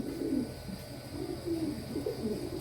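Pigeons from a bloodline bred for sale coo in soft, low, throaty bursts that repeat unevenly over a muffled background. The birds sound fairly close but quiet.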